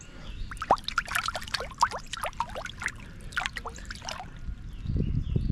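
Water from a shallow creek trickles and pours steadily close by, with bright splashing bursts through most of the stretch and a low rumble building near the end.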